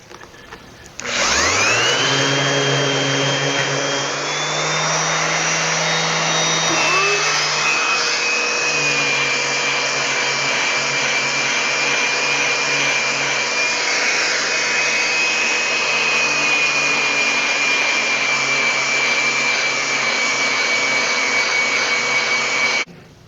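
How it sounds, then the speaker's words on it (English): A wooden hammer handle is sanded with coarse 40 grit paper, most likely on a powered sanding machine: a steady, loud mechanical whine spins up, shifts pitch once, and runs continuously before cutting off, with no talking. "I got some 40 grit sandpaper. I'm going to continue shaping it a little bit."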